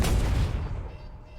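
An explosion in the video game Space Hulk: Deathwing: a loud, sudden boom that rolls and fades over about a second, with no talk over it.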